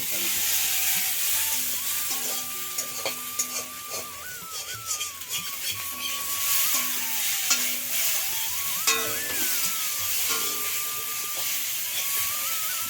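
Potatoes frying in a pan while being stirred, with a continuous sizzle and hiss under repeated scraping and clinking of a utensil against the metal, plus a few faint tonal squeaks and some background chatter.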